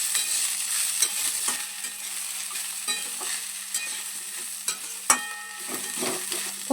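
Vegetables for a cauliflower samosa filling being stirred with peanuts and chopped coriander in a pan, a soft continuous sizzle with scattered scraping clicks of a spatula, one sharper knock near the end, no voices.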